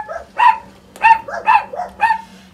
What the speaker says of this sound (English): You probably hear the dogs bark because there's a truck coming down the road.